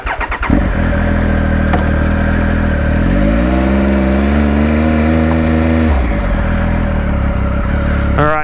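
A 2019 Triumph Speed Triple RS motorcycle accelerates hard and close, its engine note climbing steadily through the revs before a brief shift break, then pulling up again.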